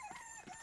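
Chickens on a farm in a cartoon give a short, faint crowing call with a raspy, tonal quality, brief and alone.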